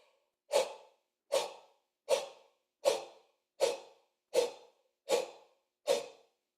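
Eight even, airy yawning breaths blown into a flute head joint, each a soft whooshing puff spaced under a second apart, close and clear with silence between.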